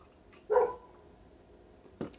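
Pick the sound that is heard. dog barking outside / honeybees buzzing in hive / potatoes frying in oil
dog barking outside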